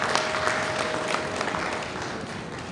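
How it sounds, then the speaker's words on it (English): Audience applause at a revenue and fiscal commission workshop in Abuja, a steady wash of many hands clapping at moderate distance, fairly even throughout with no talk over it. "Please a round of applause for him"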